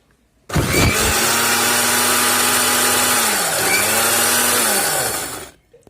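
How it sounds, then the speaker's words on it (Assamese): A kitchen mixer grinder whirs loud and steady for about five seconds while puréeing tomatoes for tomato sauce, dipping briefly in pitch midway before spinning down. "আমি এতিয়া ধুনীয়াকৈ এইখিনি মিক্সিত ধুনীয়াকৈ পিচি ল'ম, পূৰা মিহি কৰি দিম।"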